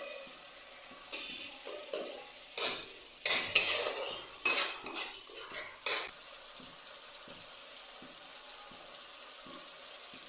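Spiced okra and fish with chili powder, chopped tomatoes and potatoes are stirred in a frying pan, giving a cluster of loud metal scrapes and clinks in the middle over a soft, steady sizzle.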